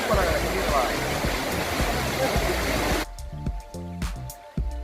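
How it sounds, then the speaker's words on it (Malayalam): Roar of the Kuttralam waterfall, water dropping about 80 feet, as steady broadband rushing for the first three seconds. It then cuts to a quieter scene with a tonal voice or music over faint water. "ഏകദേശം 80 അടി ഉയരത്തിൽ നിന്നാണ് ഈ വെള്ളച്ചാട്ടം ഉത്ഭവിക്കുന്നത്."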